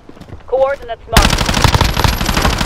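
Gunfire in Call of Duty Warzone erupts after a short spoken line: a loud, close burst of rapid automatic fire, continuous and dense until the end.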